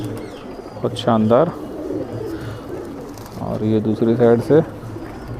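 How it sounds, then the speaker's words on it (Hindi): Madrasi pigeons cooing in soft repeated bursts close by, heard under steady Hindi talk about the birds. "ये कबूतर है"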